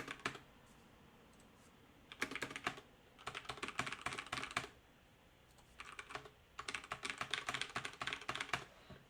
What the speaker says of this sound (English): when we type over here, it also comes out.